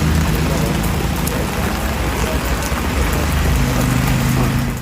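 Steady drizzling rain falls in dense mountain fog, a constant even hiss with a low rumble beneath and no voices.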